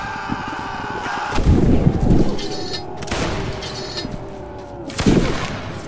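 Musket volleys in the Roblox Napoleonic battle game Waterloo, three heavy booming bursts a second or so apart with rolling echoing tails, a faint voice and game noise between them.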